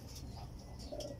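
Racing pigeons at a loft during the fourth lap of a Mallig, Isabela race, giving soft, faint cooing calls against a low background hum.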